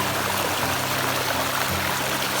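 River water rushing steadily through a Green Mountain Gold Trap sluice on the East Fork San Gabriel River, a loud, continuous broadband wash with no pauses, close by and without talk.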